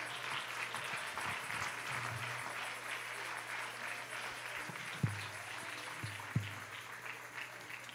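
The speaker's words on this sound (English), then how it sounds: "Clap them while they come." A church congregation applauds during a national convention night service, a steady, moderately distant wash of clapping with a low hum and a few louder thumps near the end.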